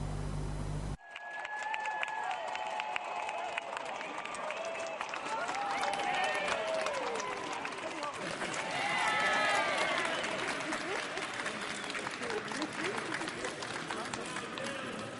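Sustained applause from a crowd, dense clapping that swells midway and keeps going for many seconds.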